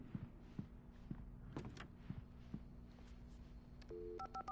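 A telephone being dialed in Alan Wake Remastered, with a few soft clicks and knocks followed by a short run of bright electronic keypad tones at the end.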